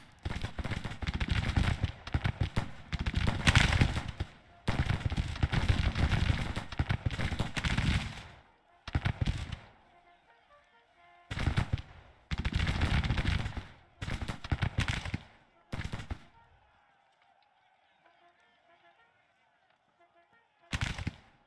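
Troops fire volleys of Civil War-era gunfire in the game Grand Tactician: The Civil War. Loud, dense crackling bursts last a few seconds each, separated by short quiet gaps, and a final volley comes after a long pause.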